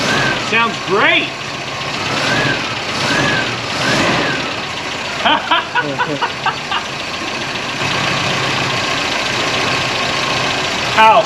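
An old Volvo wagon, just revived after years abandoned, idles unevenly and close by while people talk and exclaim over it.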